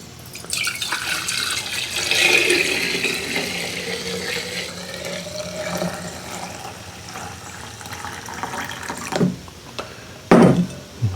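Homemade pawpaw moonshine poured into a bottle, a steady close trickle of liquid running for several seconds, easing off toward the end before a couple of sharper clinks and splashes.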